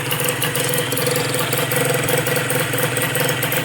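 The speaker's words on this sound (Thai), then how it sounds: "รอบเครื่องยนต์มันจะลงช้าเพราะว่ามันรั่วนะ" Honda NSR150RR motorcycle engine idling during a test run on a bike with a leak that slows the revs dropping, a steady close buzzing two-stroke rhythm with no talk.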